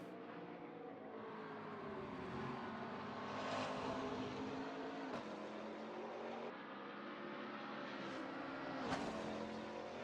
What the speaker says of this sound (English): the McLaren sounds so much better from the outside than it does from the inside